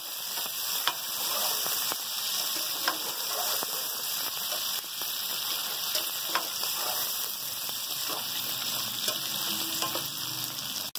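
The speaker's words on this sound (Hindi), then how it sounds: "प्याज के साथ कलेजी को फ्राई करेंगे।" Chicken liver pieces fry with onions in a pan for restaurant-style kaleji masala, giving a steady, close sizzle dotted with scattered pops and crackles that runs without break.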